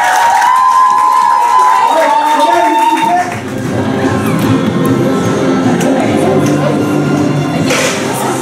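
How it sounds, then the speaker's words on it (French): A live audience at a comedy show breaks into applause and cheering after a performer is introduced, a dense crowd roar with clapping and shouts that swells and holds steady to the end. "on l'applaudit, on le remercie"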